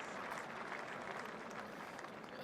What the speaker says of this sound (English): He's getting a warm round of applause wherever he's disappeared to.